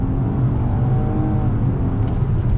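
A 2020 Nissan Maxima Platinum sedan's engine hums steadily under throttle, a muffled cabin drone with rising tonal whine, heard from inside the car without talk.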